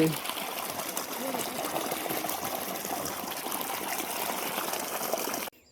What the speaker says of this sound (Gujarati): તો પાણી ચાલુ છે.